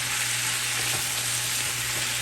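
Tomatoes and vinegar hit a hot frying pan for Peruvian tallarín saltado, giving a loud, steady, close sizzle that hisses without a break, with faint clinks underneath and no one speaking.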